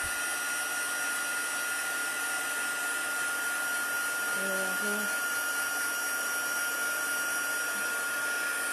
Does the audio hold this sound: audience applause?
no